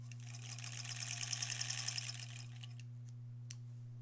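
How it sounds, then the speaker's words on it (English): A sewing machine runs steadily for about two and a half seconds, joining quilt scraps for a granny squares quilt, then stops, leaving a low steady hum and a few faint clicks. "I think we're gonna start sewing it together."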